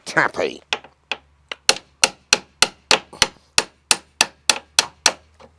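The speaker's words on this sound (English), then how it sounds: "I'm going to need to go and get my hammer to get this pin out because it's bent" Steady, sharp metallic hammer strikes knocking a bent pin out of a Sprinter van, about a dozen evenly spaced blows ringing out close by, after a brief voice at the start.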